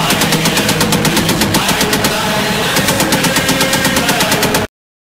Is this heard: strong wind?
no